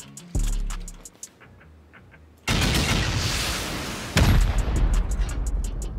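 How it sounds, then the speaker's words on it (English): Rocket blasts hitting base walls during a raid in the survival game Rust: a sharp explosive boom, a quieter pause, then a sustained loud roar of detonation and debris with a second heavy impact layered on top. "And then we'll rocket out the walls."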